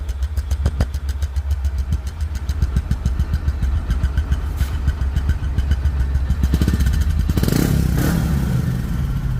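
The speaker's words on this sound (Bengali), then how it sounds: "রানিং অবস্থায় গাড়িটি সাউন্ড শুনুন" A 2023 Bajaj Discover 110 motorcycle engine runs close by with a steady, rapid idling putter, then revs louder and rougher near the end; no one speaks.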